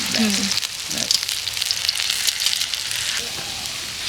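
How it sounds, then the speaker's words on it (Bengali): Cauliflower pakoras fry in hot oil with a loud, continuous crackling sizzle full of sharp pops and spits, close by, and brief murmurs of voices underneath. "ফুলকপি পকোড়া টং টং আওয়াজ হচ্ছে।"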